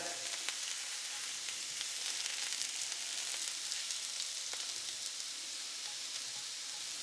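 Lampuki fillets frying in a pan, a continuous bright crackling sizzle with scattered pops, steady and close, no one talking.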